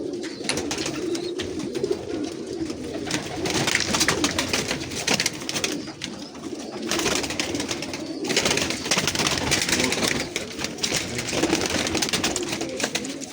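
Pigeons coo repeatedly in soft, rolling phrases, close by and continuous, with faint background rustle and no talk over them.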